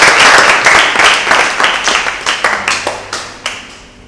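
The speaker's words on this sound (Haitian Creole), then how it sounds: "Il n'est pas mérité un applaudissement?" Studio audience applauding at a French television talent competition, dense clapping at first that thins into scattered, separate claps fading out over a few seconds.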